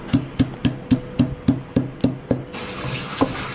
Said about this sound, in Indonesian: Di sini aku menghaluskannya menggunakan ulekan aja.